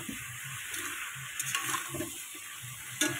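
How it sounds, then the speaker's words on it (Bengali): Food sizzles steadily in hot oil while being stirred, with soft scraping sounds in a quiet kitchen. "এটা একটু লাল লাল করে ভাজা করে নেব, কষা কষা করে নেব"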